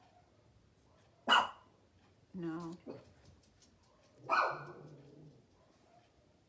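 Dogs at home bark in two sharp, loud bursts a few seconds apart, with a short spoken word between them in an otherwise quiet room.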